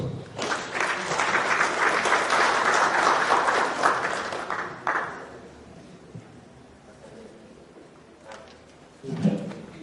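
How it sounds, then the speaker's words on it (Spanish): Conference audience applauds, a dense burst of clapping for about five seconds that fades into room murmur, with a brief flutter of claps again near the end. "Recibamos con fuertes votos de aplauso."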